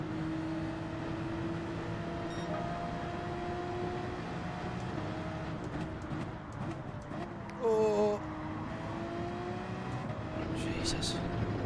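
Race car engines drone steadily from cars running in a Supra's slipstream in Gran Turismo, a continuous mid-level hum with shifting pitch, one brief louder burst partway through, and a voice talking over it.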